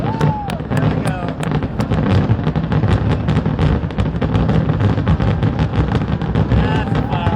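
Fireworks burst over Pittsburgh in a rapid, dense barrage, sharp cracks and booms layered over a continuous rumble, loud and sustained throughout with crowd voices faintly underneath.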